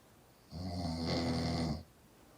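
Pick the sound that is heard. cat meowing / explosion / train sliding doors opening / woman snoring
woman snoring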